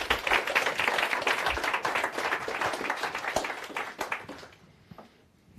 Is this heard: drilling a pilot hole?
no